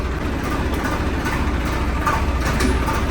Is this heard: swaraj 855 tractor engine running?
yes